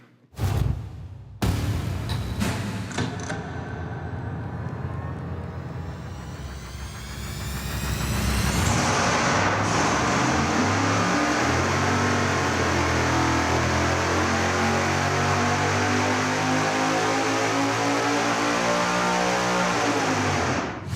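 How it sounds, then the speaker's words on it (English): A supercharged, nitrous-fed big-block Chevy V8 running on a dyno, with a few sharp clicks and a cranking roar before a long, loud, steadily climbing engine howl that holds at full power. "we're gonna fire it up now and find out what kind of power difference we might see"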